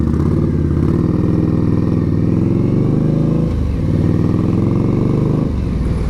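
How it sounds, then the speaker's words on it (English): Indian Scout V-twin motorcycle pulling away from traffic lights, its engine loud and close with a steady rumbling burble that swells as it accelerates, dips briefly as it shifts gear, then pulls on again. "Just listen to this bike as we pull away."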